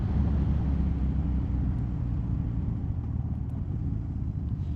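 Yamaha XJ600 motorcycle riding along a country road through the village of Avebury, a steady low engine rumble with constant wind noise, moderately loud and unbroken.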